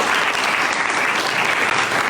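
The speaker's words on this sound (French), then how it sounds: "on peut les applaudir parce que c'est pas forcément évident" Sustained, dense applause from an audience honouring student debaters at a political debate held at the university in Nîmes. The clapping is loud and steady, with no talk over it.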